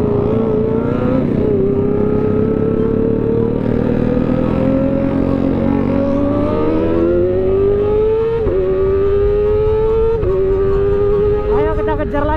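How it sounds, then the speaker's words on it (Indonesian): A Honda CBR sport motorcycle with a loud exhaust on a Sunday group ride revs close by, its engine note climbing repeatedly in pitch through the gears under steady wind and road noise. "Lebih kencang suara dia daripada suara knalpot kita."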